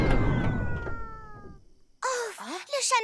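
An animated cat lets out a long, drawn-out meow that slowly glides downward and fades, followed after a short silence by an excited voice talking.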